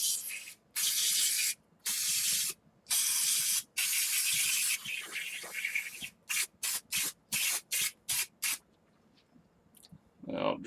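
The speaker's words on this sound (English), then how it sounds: "going to take some brake clean or compressed air. We're going to hose out each hole, then hose off the face of the thing." Brake cleaner sprayed out of a can to flush the bolt holes of a Harley Dyna rear belt pulley: several longer hissing blasts, then a quick run of short bursts, close and loud.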